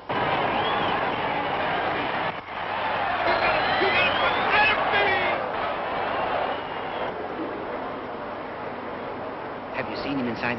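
A big racetrack crowd roars and cheers in a loud, sustained swell that thins out toward the end, with scattered shouts and whistles rising above the din.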